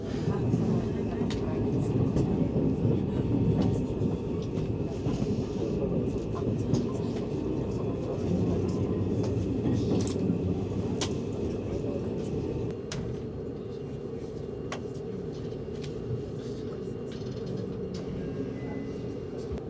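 Steady rumble of a Seibu Laview train in Japan rolling along rails, heard from inside, with faint clicks and rattles over a constant low drone and occasional talk.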